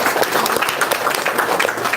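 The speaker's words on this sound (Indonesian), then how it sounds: "Tepuk tangan dong buat mereka bertiga." Audience applause at a book launch event in Indonesia, a dense wash of many hands clapping at steady volume throughout, fairly close and with no clear voice on top.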